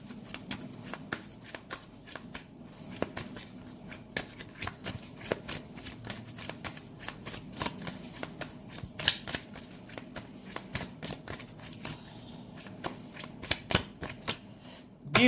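Tarot cards being shuffled for a reading, a steady run of soft riffling flicks and slaps close by, continuous and alone, with no talk.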